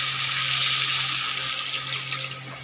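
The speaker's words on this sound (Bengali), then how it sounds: "এবারে আমি দেব জল।" Water pours into a cooking pan for a sea tengra fish curry with potatoes, a steady close rushing splash lasting a few seconds.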